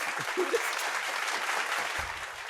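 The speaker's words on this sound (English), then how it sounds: "there's some claps and some hoots" Audience applause with scattered hoots at a live fantasy bard performance night, a steady burst of clapping close by, with a voice speaking over it.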